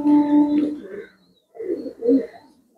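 A racing pigeon at a loft coos nearby in two low, throaty phrases separated by a short silence, the second ending in a soft fade.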